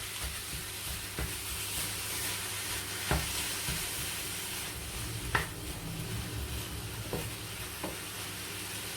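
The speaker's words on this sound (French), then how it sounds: "Laisse mijoter un petit peu" A potato and minced-meat roll mixture simmers in a pan with a steady, soft sizzle and hiss. A few faint clicks and light stirring taps sound over it, and no one speaks.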